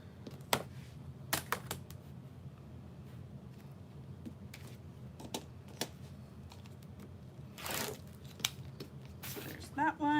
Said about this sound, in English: I'm gonna cut the elastic slip side pockets to 9 inches wide